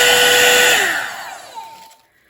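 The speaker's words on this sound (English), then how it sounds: "it's like a mini hair dryer" A small hair dryer with a brush attachment, blown over acrylic paint, runs loudly, then winds down with a falling whine as it switches off, fading to near silence.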